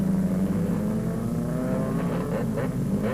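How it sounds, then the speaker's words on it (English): A Whirlwind helicopter flies over a racing paddock during a rescue demonstration, its steady droning engine and rotor noise loud and continuous throughout, with no voices. "a Whirlwind helicopter was demonstrating rescue techniques"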